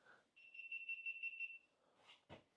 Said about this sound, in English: Look at all kinds of things beeping at me.